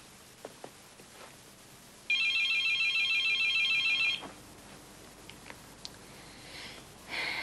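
A telephone rings with a bright, trilling electronic bell in one continuous two-second burst in a quiet room, followed by faint sniffs and small handling noises.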